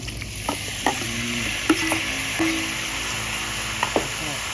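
Gourd stir-frying with pork belly in a pan after water is added, a steady sizzle broken by a handful of sharp clinks and scrapes from a spatula, close up, no talking.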